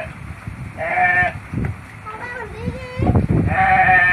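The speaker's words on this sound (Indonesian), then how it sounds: "Kambingnya banyak sih." Several goats bleat repeatedly during a bath, with splashing water and children's voices talking around them at close range.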